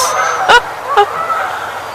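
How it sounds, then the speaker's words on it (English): Two short goose honks sound about half a second apart over steady background noise, moderately close and alone. "the geese are also approving that, I guess"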